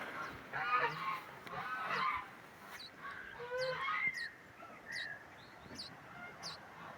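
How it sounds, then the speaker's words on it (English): A young bird, a nestling kept out of its nest, calls constantly with repeated high, short chirping cries over a steady noisy background, fairly close. "Little bird is sleeping but screaming constantly."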